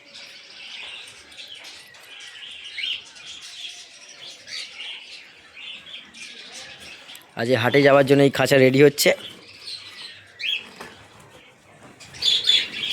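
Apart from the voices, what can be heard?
budgerigars chirping in aviary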